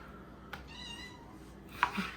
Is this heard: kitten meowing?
yes